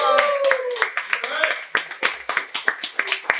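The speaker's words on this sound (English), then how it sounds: "Everybody give him a round of applause." An audience at an in-person movie trivia event clapping in a sparse, uneven patter of hand claps that tapers off, with a voice speaking over the start.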